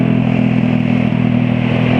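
A loud, close motorcycle engine with a knocking fault idles with a steady low drone and a rapid, even mechanical knocking running through it.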